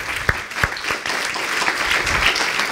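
A church congregation applauds during a bilingual Spanish-English sermon, loud crowd clapping throughout with a few sharp individual claps standing out near the start, no speech over it.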